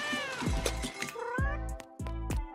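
A cat meows in several drawn-out, wavering cries, loud and close, followed by shorter calls, with no one speaking.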